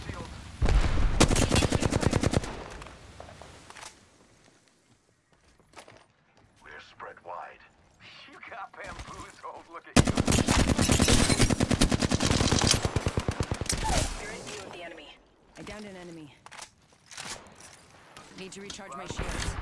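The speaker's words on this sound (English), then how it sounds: "Shot fired in there." Gunfire in the Apex Legends video game on the Kings Canyon map: loud bursts of rapid automatic fire in two long volleys, separated by quieter stretches of scattered shots and game effects.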